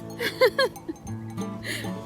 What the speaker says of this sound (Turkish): Koyun geldi.